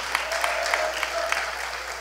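A church congregation claps together during a Sunday sermon, a steady wash of hand claps with a few sharper accents, carrying on evenly for the whole stretch.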